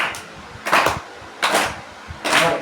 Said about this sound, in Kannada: ನಾ ಹ್ಯಾಂಡ್ ಕ್ಲ್ಯಾಪ್ ಹಾಕ್ತೀನಿ